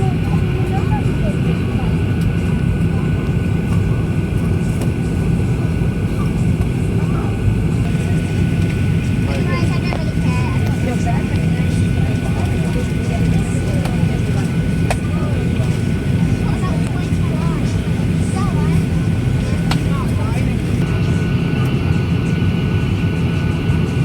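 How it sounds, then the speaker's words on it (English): Cabin noise aboard a Firefly Boeing 737-800 airliner pushing back at Phuket: a steady low rumble and hum of engines and air systems, continuous and close, with faint intermittent clicks and a voice speaking over it. "We're finally pushing back."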